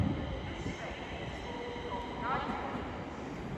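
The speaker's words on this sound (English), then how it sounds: "Now departing is the 1209 London Northwestern Railway service to Milton Keynes" A London Northwestern Railway electric multiple unit, class 350, departing London Euston for Milton Keynes Central, a low rumbling roll of train wheels with faint squeals, fairly distant, with a voice talking over it.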